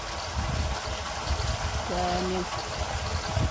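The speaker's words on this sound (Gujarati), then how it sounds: "મોટર ચાલુ કરી દીધી ટાંકા ભરવા." Electric water pump motor running to fill a water tank: a steady rush and trickle of flowing water with a low hum underneath, and a brief voice-like tone near the middle.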